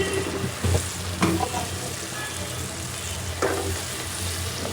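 Garlic paste, spices and salt stir-fried in a pan, a loud continuous sizzle close up, broken by a few scraping stirs.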